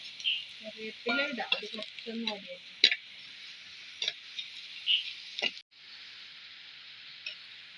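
Curry leaves, garlic, ginger and chillies sizzle steadily in hot oil in a pan for a fish curry, with stirring clinks and scrapes and a faint voice briefly near the start.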